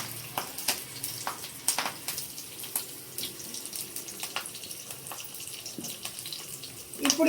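Mustard seeds and curry leaves crackle in hot oil while tempering tomato chutney, giving sharp scattered pops and sputters over a steady low frying hiss, fairly close, with no talk.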